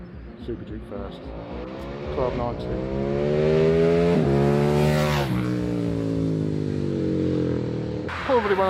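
A KTM 1290 Super Duke motorcycle roars past, revving up through gears with a rising, loud engine note that peaks close by and then drops away, a short burst of engine at the end.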